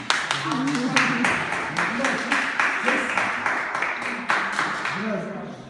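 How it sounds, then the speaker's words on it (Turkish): Guests applaud at a Turkish civil wedding ceremony right after the couple's vows, a steady ripple of hand claps from a nearby crowd filling the room, with a voice speaking over the clapping. "Alkışlayalım"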